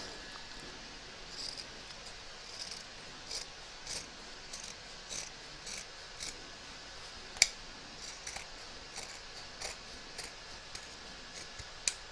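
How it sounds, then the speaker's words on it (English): Scissors trimming a fabric edge for a crazy patch notebook cover make a steady run of quiet, close snips at an even rhythm, one slightly sharper, with no talk. "now we're going to trim up around the edge, leaving 1/4 inch seam allowance all the way around"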